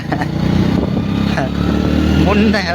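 A motorcycle on a road trip from Anand to Pavagadh, its engine droning loudly and steadily close by while people talk over it.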